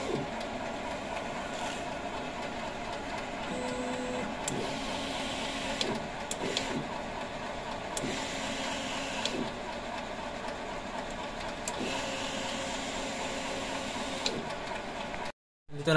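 A DTF printer runs a nozzle check print, its print head carriage moving in repeated passes with steady mechanical whirring and ticking, close and continuous, then stopping abruptly near the end.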